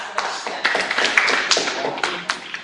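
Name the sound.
clapping hands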